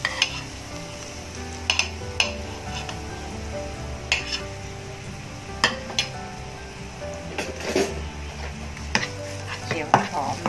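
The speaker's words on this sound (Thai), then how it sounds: "เราเริ่มร้อนนะคะเราก็ใส่กระเทียม" Garlic hits hot oil in a wok for Chinese-sausage fried rice, a close steady sizzle broken by repeated sharp clinks and scrapes of a utensil against the pan, no talking.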